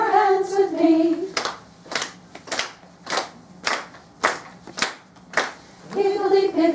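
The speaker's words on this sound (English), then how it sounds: "please clap your hands with me" Hands clap along to a children's song, about nine crisp, evenly spaced claps in a steady beat, with singing before and after the claps.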